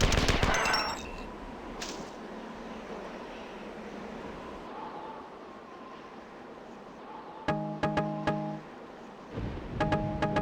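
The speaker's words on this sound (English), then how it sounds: "I have my napalm canisters on my assault rifle again." Video-game assault rifle loaded with napalm canisters fires in two short bursts of rapid, loud shots late in the span, after a quieter stretch of game ambience and an earlier loud hit.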